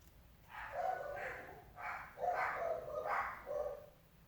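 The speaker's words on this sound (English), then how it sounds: "Sorry if you can hear my dogs." Several dogs bark in short, separated bursts of yaps and barks, fairly close and loud, over a faint steady background hum.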